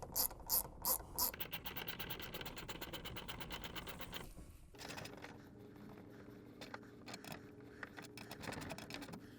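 A socket wrench ratchets bolts into a wall while a TV mount goes up, its fast clicking pawl running steadily and close, with rapid bursts of clicks at the start and later a lighter, more irregular ticking.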